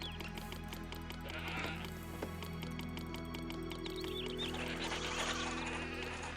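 Sheep bleat repeatedly in the Zeus: Master of Olympus city-building game, several wavering calls over a dense bed of game ambience and music, with no talk.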